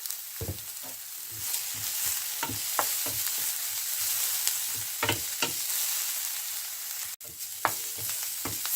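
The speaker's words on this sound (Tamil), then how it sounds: "வெங்காயம் பச்சை மிளகாய் எல்லாம் வதங்கி விட்டது" Onions and green chillies sautéing in a pan with a pinch of salt while tadka-style seasoning is prepared for Tamil curd vadai, giving a steady soft sizzle broken by repeated scraping stirs of a spoon against the pan.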